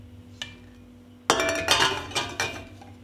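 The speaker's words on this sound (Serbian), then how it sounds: "na dno ću staviti krpu i unutra poređati tegle" Glass jars clink and knock as they are set one by one onto a cloth inside a cooking pot, a few close, bright taps after a quiet start, with no talking.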